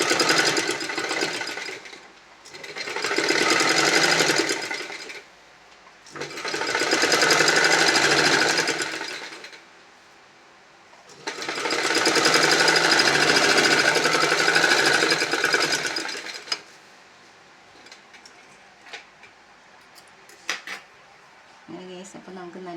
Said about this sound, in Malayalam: അപ്പോൾ ഇനി നമുക്കിത് സ്റ്റിച്ച് ചെയ്യാം